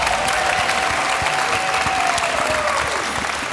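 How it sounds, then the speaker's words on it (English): Loud, sustained applause from an audience at a Gran Turismo World Series esports event in Los Angeles, dense clapping with some crowd noise and a faint tone running beneath it. "Let's give him a round of applause, please."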